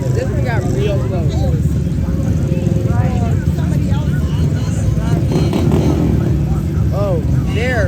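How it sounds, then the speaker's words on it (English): ATV engines rumble steadily close by as a line of them rolls through an Independence Day street parade, with a crowd chattering over the droning noise. "listen to the sound of those engines on all these ATVs"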